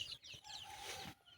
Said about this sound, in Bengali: এই যে মাশাআল্লাহ আমার মুরগিগুলা, বাচ্চাগুলো ওরা ছাড়া আছে, খাইতেছে